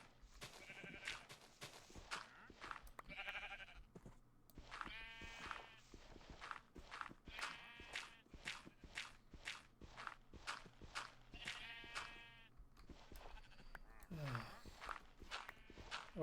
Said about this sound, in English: I wish there was a way to shut the sheep up,